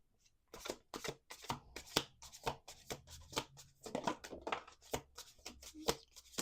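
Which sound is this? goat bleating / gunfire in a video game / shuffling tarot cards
shuffling tarot cards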